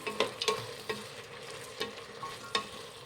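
Chopped vegetables and two cut tomatoes fry in oil in a pan for vegetable pulao, with a steady low sizzle broken by several sharp scraping stirs of the spoon against the pan.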